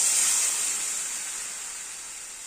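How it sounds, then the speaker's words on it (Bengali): Water is poured into a hot pan of potato and pointed gourd curry, setting off a loud bright hiss that slowly fades as it goes on. "এবার দিয়ে দিচ্ছি পরিমাণ মতো জল"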